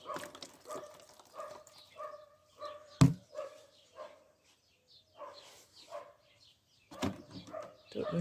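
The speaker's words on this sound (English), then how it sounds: "and the dogs barking?" Several dogs bark at a distance in short, scattered bursts, with a louder sharp sound partway through and quiet outdoor ambience between, wood pigeons calling.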